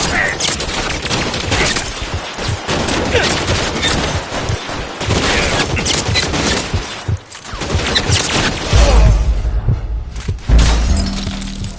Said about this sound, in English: All units, shots fired, Ops needs help.